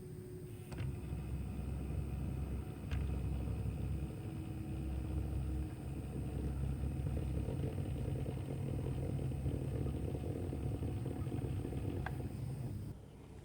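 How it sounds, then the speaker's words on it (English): A Realtrack Models Class 144 model train's small motor runs steadily, a low, even grinding hum with faint mechanical whine, quiet and continuous before cutting off near the end. "with the engines with the smaller physical motors, they can grind a bit as they move off"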